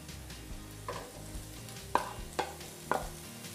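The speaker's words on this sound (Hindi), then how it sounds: "प्याज को हमने इसमें डाल के एक मिनट फ्राई कर लिया है" Onions and potatoes frying together in a pan for a sandwich filling. A quiet sizzle runs underneath, broken by several distinct spoon scrapes and stirring clatters that arrive in uneven beats.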